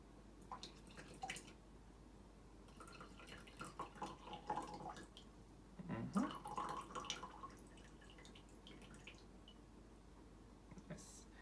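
Brewed Tamaryokucha green tea trickles and drips quietly into a cup, a faint, light splashing with a voice now and then in the background.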